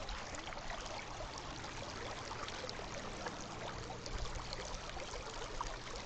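River water flows steadily with a continuous, fairly quiet rushing and trickling wash, alone and unchanging throughout.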